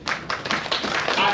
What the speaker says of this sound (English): Can we give a big clap for Gabriel?